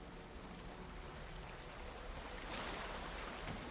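Steady broadband rush of a waterfall in the fantasy game Avowed, a continuous wash of falling water that swells louder over the last second or so, with no voices over it.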